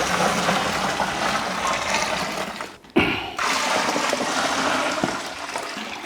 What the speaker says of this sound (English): So now I'll just fill this up to 23 litres.